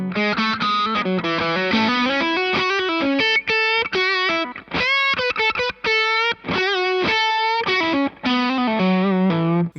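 An electric guitar through a Boss DS-1 distortion pedal, heavily distorted, plays a choppy riff of bright chords and single notes, loud and close, with short stops between phrases.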